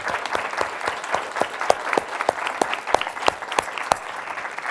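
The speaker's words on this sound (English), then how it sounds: "let's give a round of applause for our incredibly dynamic panel" An audience applauds a panel at an alumnae career event, steady moderate clapping with individual sharp claps standing out, continuous for the full few seconds, fairly close and with no talk over it.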